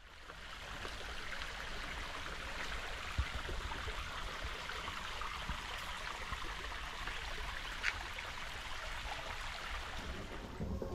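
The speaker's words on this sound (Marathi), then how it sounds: "आणि डोंगरातून हा पाणी येणार इकडे." A hill stream flowing down through forested hillside, a steady broadband rush of running water close by, continuous and even throughout with no talk.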